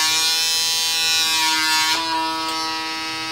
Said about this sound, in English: you're supposed to hear a popping noise that sucks